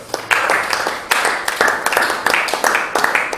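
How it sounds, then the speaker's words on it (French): A church congregation claps together in a steady, fairly loud burst of applause that fills the room, with overlapping hand claps and voices mixed in. "On l'applaudit très fort pour notre frère."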